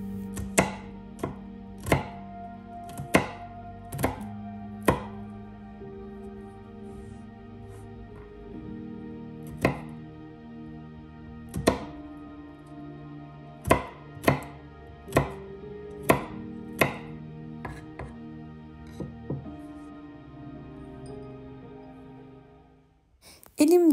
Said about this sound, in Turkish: Doğradığım sarımsakları kavanozun içerisine koyuyorum.